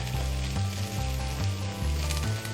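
Butter sizzling in a pan with bacon fat, onions and carrots, a continuous close crackling sizzle under a low rhythmic hum.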